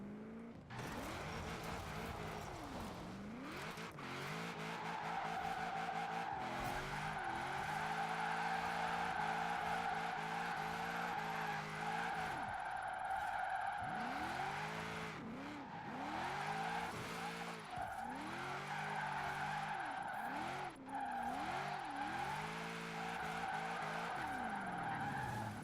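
A car drifts in a Forza racing game with long, repeated tyre squeals and skids swooping up and down over a loud, steady engine roar, continuous and close throughout, with occasional brief speech.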